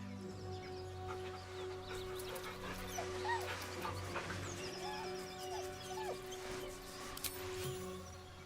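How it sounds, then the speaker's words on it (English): A dog in the video game Baldur's Gate III whimpers nervously, soft high yelps and whines repeating over a humming, droning game backdrop. "The dog whimpers nervously, as if to urge you on."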